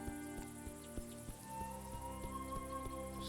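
Crickets chirp in a grassy evening scene in the video game A Juggler's Tale. The insect chirring is soft and continuous under a gentle, steady musical drone, with no voices.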